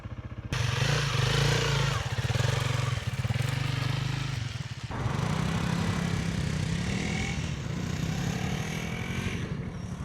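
A 2025 Honda CRF300L dual sport motorcycle runs nearby, its single-cylinder engine giving a steady throbbing drone that rises and dips with throttle changes and shifts pitch midway through.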